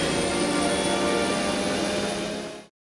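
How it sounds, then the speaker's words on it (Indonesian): Remote control model plane flying past in an animated film, a loud steady buzzing engine drone that holds for under three seconds and then cuts off abruptly into silence. "terlihat sebuah pesawat remote control terbang di dekat mereka"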